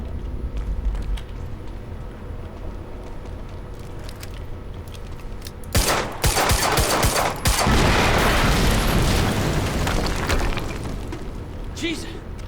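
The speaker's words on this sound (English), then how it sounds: "we just heard an explosion near the harvesting perimeter" A loud explosion in the video game Quantum Break bursts out midway, followed by sustained roaring, crackling debris and rumble that nearly drowns the earlier quiet background.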